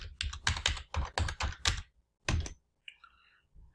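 Quick bursts of typing on a computer keyboard in an office, a dense run of close keystrokes, a pause, then a final key press and a faint trailing click.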